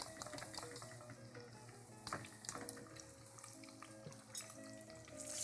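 Onions frying in bacon fat in a pan, a soft, continuous sizzle with occasional stirring clatter, fairly quiet.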